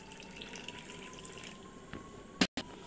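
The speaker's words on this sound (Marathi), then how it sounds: "थोडंसं पाणी टाकते." Water poured into tamarind for sambar, a soft trickling splash, quiet and close, ending with a short louder clatter.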